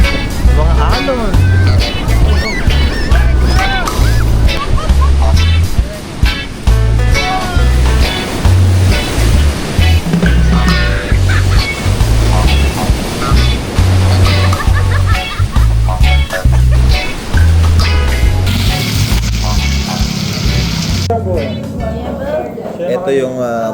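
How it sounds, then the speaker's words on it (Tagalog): Ocean waves at the beach in Baler in rainy weather, surf sloshing and rolling in repeated surges, heard loudly beneath voices and other overlapping sound. "Alon."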